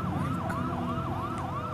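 An ambulance siren wails with a steady rising-and-falling sweep, loud and continuous, over the rumble of nearby road traffic.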